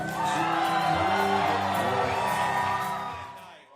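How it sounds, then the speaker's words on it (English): Crowd at a US election night event shouting and cheering together, a dense continuous roar of voices with whoops, steady and loud before fading at the end. "Great emotion, shouts of delight, thunderous applause"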